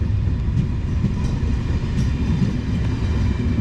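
Irish Rail train with an 070 locomotive and a 201 locomotive at the rear rolls past a platform, a steady loud rumble of wheels and engine throughout with faint rail clatter, no voices.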